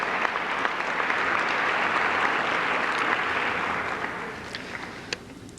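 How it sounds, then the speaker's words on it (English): An audience at the 2003 Norristown Area High School Hall of Champions and Hall of Fame ceremony gives a steady, full round of applause. The dense clapping holds for several seconds and then slowly thins toward the end. "Let's give them a round of applause"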